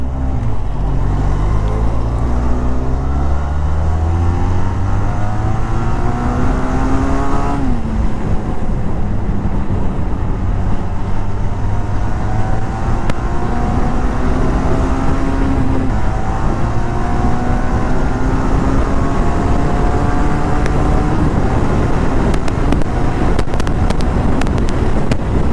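Benelli TRK 502 motorcycle engine pulling hard on a highway, loud and continuous, with rising harmonic sweeps as it accelerates through the gears, a brief dip at a gear change, and steady wind rush throughout.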